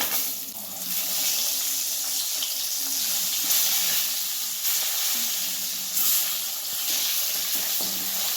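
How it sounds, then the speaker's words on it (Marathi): Eggs frying in hot oil with cumin, turmeric and red chilli, a loud steady sizzle that surges in waves as the pan is stirred, running close and unbroken with no voices. "तेलात अंडी बघा पहिल्यांदा अशी चांगली तेलात भाजून घ्यायची"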